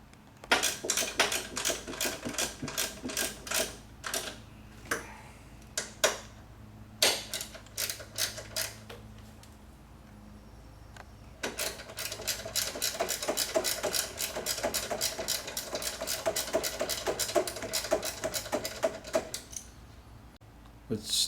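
Metallic ratcheting clicks come in rapid bursts as a torque wrench snugs down rear shock bolts on a C4-generation Corvette, pausing midway before a longer run of quick clicks, close and fairly loud.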